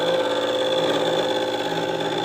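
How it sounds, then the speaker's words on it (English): A machine cuts a 24-tooth gear for a 2-inch scale Fowler showman's traction engine model, giving off a steady, continuous mechanical whir and hum with no pauses. "I've just started cutting the 24 teeth gear, which will mesh with the 96 teeth final drive gear"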